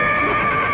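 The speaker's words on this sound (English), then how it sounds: "Well, I thought I heard a horse." A single horse neighs loudly and close by, one brief whinny heard alone.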